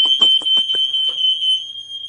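A fire alarm blares a loud, steady, piercing tone close by, with a few short rhythmic knocks or bursts in the first second.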